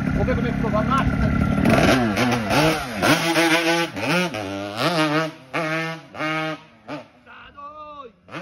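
A Yamaha RD135 two-stroke motorcycle set up for wheelies is revved hard, over and over, its engine note climbing and falling in sharp repeated sweeps close by, ending in shorter choppy blips.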